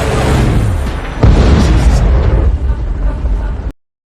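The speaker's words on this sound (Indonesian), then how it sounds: "mendadak helikopter pengawal jatuh dan meledak." An escort helicopter crashes and explodes in a dramatic series scene, a loud, close blast that swells into a second heavy boom and rumbling roar before cutting off abruptly into silence.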